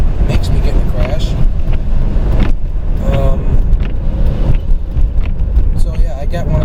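A 1997 Pontiac Grand Prix GTP engine drones and whines steadily while driving, heard from inside the car with road and wind rumble and a voice talking over it.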